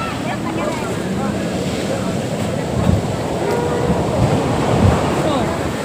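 Sea waves breaking on the shore at Puri beach make a loud, continuous rushing wash with wind buffeting the microphone, while a voice talks faintly beneath the surf.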